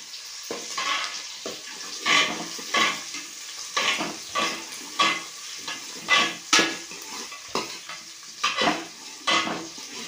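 Onions are stir-fried in a pan for Indian-style chicken gravy curry, with rhythmic spatula strokes about once a second scraping and clinking against the metal over a soft sizzle.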